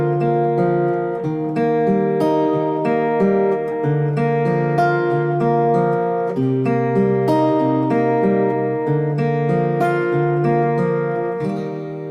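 Steady strummed guitar working through the verse chord progression of a song, clear and close with a sustained ringing tone and no talking.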